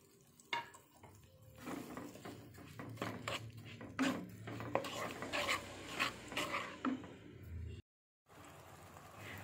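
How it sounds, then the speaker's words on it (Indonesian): Water is stirred into lumps of powdered coconut milk in a cooking pan, with a spoon scraping and clinking against the metal in irregular strokes and a soft simmering hiss underneath, close up, pausing briefly near the end. "Jadi saya tambahkan dulu air diaduk-aduk sampai gumpalan-gumpalan santannya lumer"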